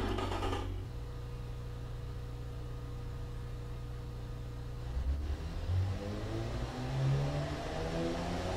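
A video game car engine with dual exhaust drones steadily at low pitch, then revs up in a few rising surges toward the end, clean and close with no talking.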